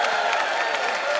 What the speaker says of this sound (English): Let's see how the audience has decided by your applause